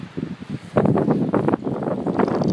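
Wind gusting outdoors, buffeting the microphone with rustling, broadband rushes that swell and ease over a couple of seconds, fairly loud and close, with no talk.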